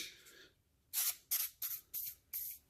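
A spray can fitted with its original white nozzle hisses in five short, sharp bursts close up, each a brief puff of spray separated by small gaps.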